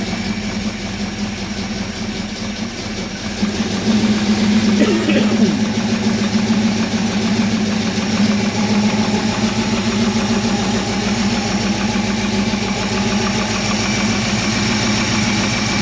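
An XC Ford Falcon panel van engine idles on a new carburettor, a steady close rumble that gets slightly louder a few seconds in and then holds an even drone.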